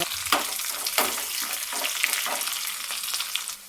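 Steady sizzling of tempering spices, onions and garlic frying in ghee, with a few louder bursts and crackles as the pan is stirred; no voices.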